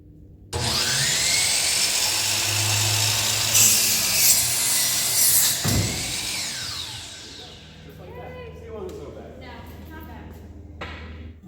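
A DeWalt miter saw spins up loud and close, whines through a cut in wood for about five seconds, then winds down. Someone talks over the fading blade.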